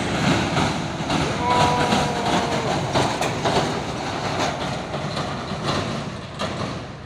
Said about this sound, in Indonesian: Lagi truk trailer ini, wus